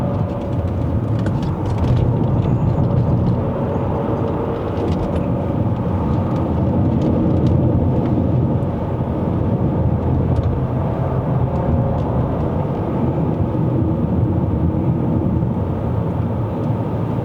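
An Omoda C9 AWD rolls downhill on the Genting mountain road in Malaysia, giving a steady, even drone of engine and road noise with no talking.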